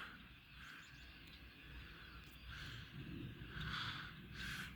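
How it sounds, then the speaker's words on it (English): A flock of birds calls at Crosswinds Marsh at sunset, a faint, distant chorus of repeated chirps and calls over a soft outdoor hush. "A lot of birds. You can hear them."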